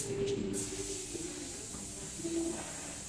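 Gear oil is sprayed onto a van chassis during an underwash, a steady close hiss running the whole time with a low mechanical hum beneath it.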